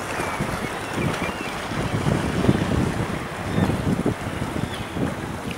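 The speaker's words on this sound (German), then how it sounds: "Der Wind ist frisch." Cold wind blowing across the deck of a ferry in Lofoten, Norway: a loud, continuous gusty rumble of wind buffeting the microphone, with water and engine noise beneath and no voices.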